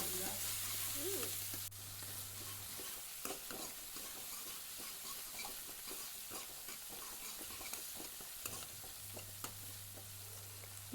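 Dried red chilies, tomato and green chilies are sautéed in a pan for a mulberry leaf curry, a faint, steady sizzle with scattered soft scrapes and taps of stirring.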